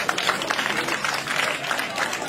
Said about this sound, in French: Et ça, il faut l'applaudir.